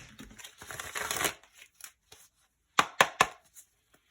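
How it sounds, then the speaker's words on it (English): Astrology cards are shuffled quickly by hand. Soft riffling rustles come first, then a few crisp taps and snaps of the deck, close and quiet with no talk. "let's just shuffle these real fast"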